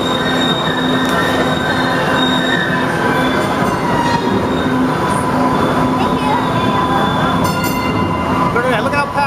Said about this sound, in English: I see some train coming this way.